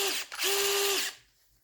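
A Parkside PMBSA 4 A1 cordless drill runs in first gear, the screwing gear, with a brief whir, a short stop, then a steady mechanical whine for about half a second before winding down to quiet.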